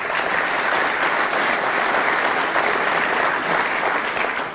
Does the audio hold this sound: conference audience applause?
yes